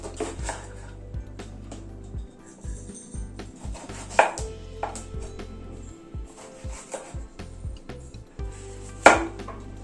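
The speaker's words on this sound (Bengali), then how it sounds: "বেগুনটাও এইভাবে লম্বা লম্বা করে কেটে নিলাম।" Knife chopping eggplant into long strips on a cutting board in a home kitchen, repeated crisp thuds in uneven bursts, close and clear, with occasional clattering of utensils.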